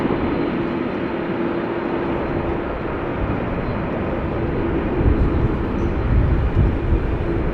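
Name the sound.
Airbus A340-600 taking off from runway 24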